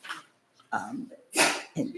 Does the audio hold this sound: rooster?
no